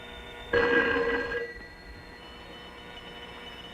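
A telephone bell rings once in a loud, close burst of about a second, then falls into a quiet hum, with a faint click at the end.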